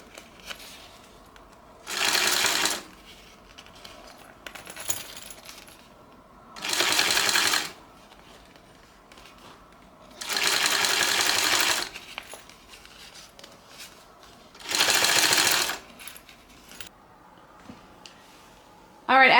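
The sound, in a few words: sewing machine basting fabric pieces of a Louie bag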